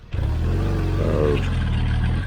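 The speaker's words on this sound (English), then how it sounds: "Motorcycles out in the woods!" Steady rumbling motorcycle engines idle and rev close by at a rally in Coconino Forest, a low continuous motor drone with a brief rise in pitch midway.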